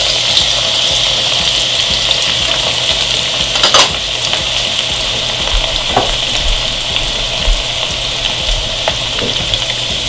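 Cumin seeds, curry leaves and garlic frying in hot oil as a tempering for a spicy moong and masoor lentil dal, giving a steady close sizzle that runs throughout with a few sharper spits and crackles.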